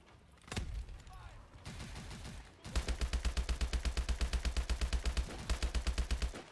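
Gunfire in Call of Duty: Advanced Warfare: a single heavy shot and scattered fire give way to a loud, steady stream of rapid automatic rounds firing evenly until the end.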